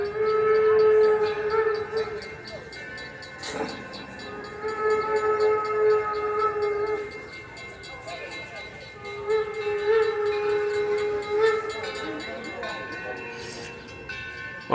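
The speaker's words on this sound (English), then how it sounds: "There's a train coming!" A steam train rumbles past with repeated steam whistle blasts over clattering rail noise, loud and close, the whistle rising and falling across the passage.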